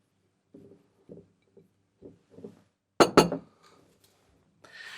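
Dried cowslip flowers, about 50 grams, dropped into a roughly 700 ml glass jar: a few soft light rustles, then two sharp close glass clinks and a brief rattle, then quieter scraping.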